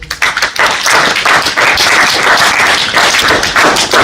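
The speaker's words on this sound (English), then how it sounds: "A round of applause for the rapporteur." Applause rises at a youth climate conference as a rapporteur from the climate finance group is called to the stage. The clapping is dense and loud, with sharp claps and thuds running steadily throughout and no talking.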